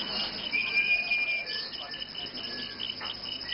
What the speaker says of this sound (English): I think that's a cricket.